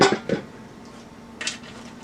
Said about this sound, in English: I'm just going to put my tomatoes on my baking sheet.